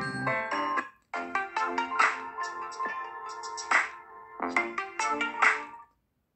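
A bright melodic Samsung phone ringtone plays in short chiming phrases, pausing briefly before repeating, then cutting off abruptly.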